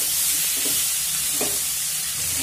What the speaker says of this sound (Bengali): এবার একটুখানি জল দিয়ে খুব ভালোভাবে মশলাটা কষিয়ে নেব।